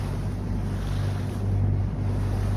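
Sea waves and a boat out on open water, a steady loud rumble of engine and wash mixed with wind buffeting the microphone, continuous with no talking.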